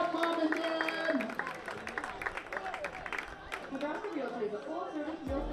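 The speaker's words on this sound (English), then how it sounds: "Give Sarah and Mark a round of applause." At a Hastings Sodbusters baseball game, the ballpark crowd applauds and cheers, scattered claps mixing with lively chatter and shouts around the stands.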